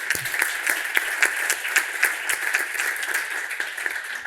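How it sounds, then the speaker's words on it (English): Audience applause fills the room at a tumor board meeting, a steady dense patter of many hands clapping throughout with no talking over it. "the team deserves a round of applause"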